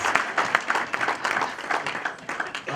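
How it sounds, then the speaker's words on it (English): Close, loud clapping from a lecture audience at a winter school session, a brief burst of uneven individual claps with varied strikes rather than a smooth wash. "A big round of applause for me again."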